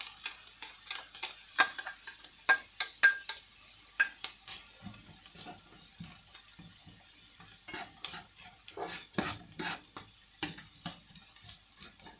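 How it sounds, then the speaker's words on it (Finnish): Onion sizzles in a pan during preparation of a creamy chanterelle pappardelle pasta, with a steady frying hiss and repeated sharp spoon taps and stirring scrapes against the pan, close and without talk. "Ja laitetaan sitten sekaan sipulia."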